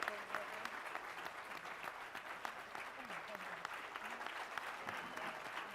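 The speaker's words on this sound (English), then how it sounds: "a round of applause." Sustained applause from a fundraiser audience, steady dense clapping at moderate level throughout without break.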